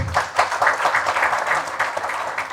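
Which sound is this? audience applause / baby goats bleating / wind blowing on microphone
audience applause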